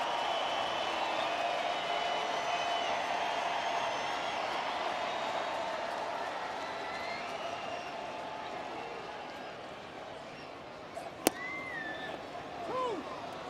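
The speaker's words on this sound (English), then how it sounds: "Nice crowd here at Comerica getting into it." Fans at Comerica Park during a Tigers–Yankees baseball game cheer and clap in a continuous distant roar that eases gradually, broken by one sharp crack and a few faint whistles near the end.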